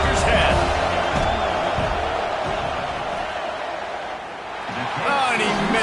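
A stadium crowd roars during a field goal try in a USC versus LSU football video game, steady loud crowd noise under a commentator talking throughout.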